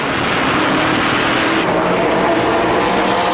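NASCAR Camping World Truck Series race trucks roar at full throttle in the 2009 Z-Line Designs 250. The engine drone is loud, dense and continuous, with one truck's pitch shifting as it passes. No commentary can be heard over it.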